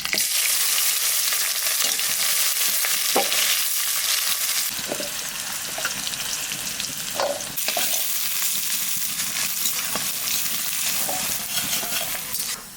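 Onions frying in hot oil with panch phoron, dried red chillies and bay leaves for a pumpkin curry, a steady loud sizzle throughout with a few spoon-stirring scrapes and clinks, no talk.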